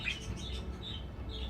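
Birds chirping and tweeting in short bright calls spread across a quiet, peaceful indoor space, fairly close and continuous with no talk.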